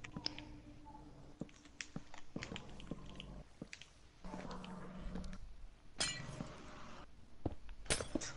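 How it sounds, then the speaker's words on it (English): Glass breaking inside a room during a film shoot: scattered sharp clinks and crunching shards recur through the clip, with several louder crashes, close by over a steady background hum. "was breaking glass in the room"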